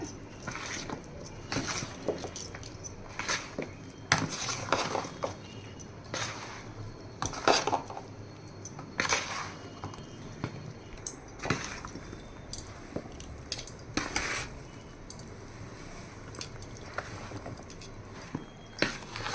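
Prawn pickle being mixed in a bowl, with repeated clinks and scrapes of a spoon against the dish in an irregular rhythm, close and moderately loud, with no talking.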